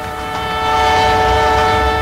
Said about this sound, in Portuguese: anunciado pelo apito do trem